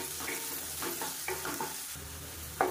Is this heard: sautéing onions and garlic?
yes